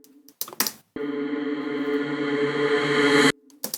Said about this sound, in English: reverse reverb